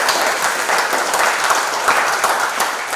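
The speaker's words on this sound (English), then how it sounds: "let's give a round of applause" A crowd applauding steadily, dense clapping filling the whole stretch at close range with no talking.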